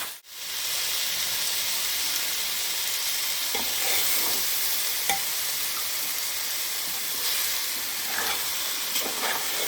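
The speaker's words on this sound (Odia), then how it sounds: "ଚାଉଳକୁ ଭାଜୁଛନ୍ତି ଦେଖୁନ ସାଙ୍ଗେ ଆମେ।" Rice frying in a pot with onion, mint, tomato and biryani masala for mutton biryani, a steady broadband sizzle and hiss running throughout with occasional soft stirring scrapes, close and fairly loud with no talking.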